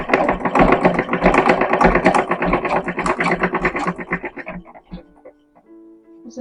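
An electric sewing machine stitches fabric hems on 1870s-1880s style infant shirts, running in a fast, even rattle for several seconds and then slowing and stopping, followed by a few faint clicks.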